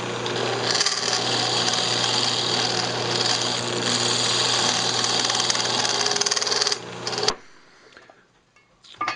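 A wood lathe cuts the inside of a yew box, a loud, steady, rough whir and chatter of tool on spinning wood that cuts off abruptly near the end, leaving quiet handling noises.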